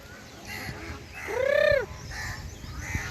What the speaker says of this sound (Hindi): और चिड़िया, कोयल, सबकी आवाज़ें, जानवरों की सबकी मिक्स हो रही हैं